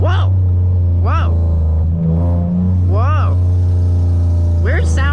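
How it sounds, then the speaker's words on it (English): A 2009 Mitsubishi Eclipse GT sports car's exhaust barks through several sharp revs over a loud, steady engine drone, each rev swooping up and dropping back, with excited voices exclaiming over it. "Oh my god, the exhaust!"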